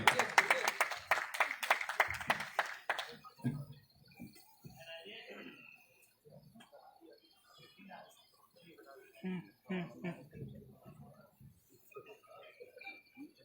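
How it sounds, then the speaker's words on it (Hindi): Audience at a poetry recital applauding to welcome a poet, a short burst of dense clapping that dies away after about three seconds, followed by quiet talking and murmurs in the room. "जोरदार तालियों से हम स्वागत करते हैं"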